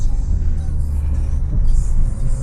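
Heavy low rumble of a big truck passing close beside an Acura TL on a suburban road, a deep steady roar of engine and road noise throughout.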